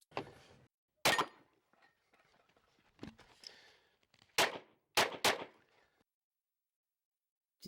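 Pistol shots ring out at a USPSA shooting match outdoors, sharp isolated cracks spaced irregularly, some in quick pairs, with quiet gaps and faint background sound between them.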